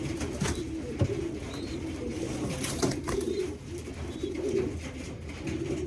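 Young tiger pigeons coo in a loft, soft repeated low cooing calls overlapping at close range with faint chirps and rustling, with no one talking.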